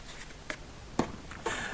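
A pen marks a line on a plastic tub holding distilled water, giving a few brief, close scratchy strokes spaced apart with quiet pauses between them.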